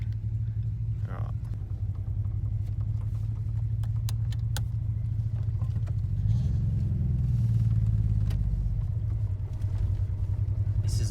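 A Nissan GTR with a five-cylinder engine is driven gently around the block, giving a steady low engine rumble heard from inside the car with a mild swell partway through; people talk over it.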